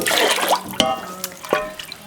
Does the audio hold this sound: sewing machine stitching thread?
no